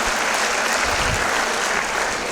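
A crowd at a Sanskrit film festival opening ceremony applauds loudly, dense clapping sustained and close throughout.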